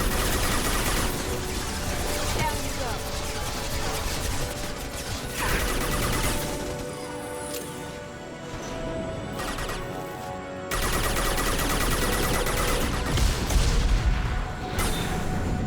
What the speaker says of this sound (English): there's a lot of rockets he just fired